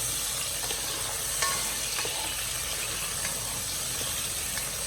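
Onions and a little tomato fry in a pan for Ghanaian gob3, a steady close sizzle and hiss with light stirring scrapes throughout, no talk.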